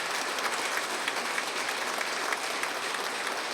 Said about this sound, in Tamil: உண்மையிலேயே அதுக்கு ஒரு கைத்தட்டல் கொடுங்க